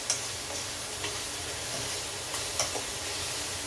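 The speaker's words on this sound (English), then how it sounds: "I don't want to burn the garlic here. I just want to cook it for about another 30-40 seconds." Minced garlic sautés quietly in a pan, a soft continuous sizzle with a few faint scrapes and ticks from stirring.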